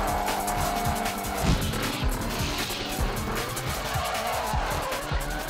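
A drift car slides hard through a competition run, tires squealing loudly over a steady roaring engine for several seconds, with rising and falling revs and a dense, continuous mix of screech and motor noise.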